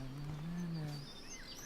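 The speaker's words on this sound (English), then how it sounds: "The birds are flocking around Samuel." Birds chirp faintly in a quiet early-morning scene in Life is Strange: light, scattered high tweets over a soft, low ambient hum.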